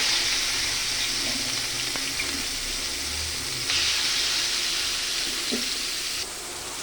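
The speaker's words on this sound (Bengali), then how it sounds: "10 মিনিট পরে এখন এটাকে তেলে দিয়ে ভাজা ভাজা" Continuous hissing sizzle of frying in hot oil, steady and close, with a couple of faint clicks and a slight drop in intensity near the end.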